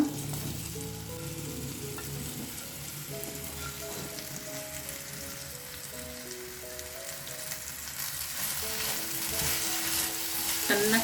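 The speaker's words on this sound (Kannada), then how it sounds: "ಒಂದು ಪ್ಯಾನ್ನ ಬಿಸಿ ಇಟ್ಕೊಂಡಿದ್ದೀನಿ ಎರಡರಿಂದ ಮೂರು ಸ್ಪೂನ್ ಆಗೋಷ್ಟು ಎಣ್ಣೆನ ಹಾಕೊಂಡಿದ್ದೀನಿ ನೋಡಿ ಇವಾಗ ಬೆಂಡೆಕಾಯಿನ ಸೇರಿಸ್ಕೊಳ್ತಾ ಇದ್ದೀನಿ" Sliced okra frying in two to three spoons of hot oil in a pan, a steady close sizzle that carries on throughout and grows slightly louder toward the end, with no talking.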